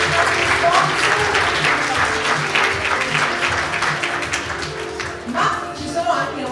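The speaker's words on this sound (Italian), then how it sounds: "Un applauso a tutti i nostri partner, a tutti i nostri sponsor." Audience applause at the Miss Aurora 2024 beauty pageant selection at Villa AB Baretta in Legnaro, Padova: dense, steady clapping from a crowd with some voices mixed in, sustained throughout and easing slightly toward the end.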